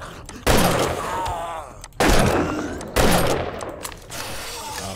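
Loud bursts of rapid gunfire from the video game 7 Days To Die, three separate volleys in quick succession, each sharp and close with a decaying tail.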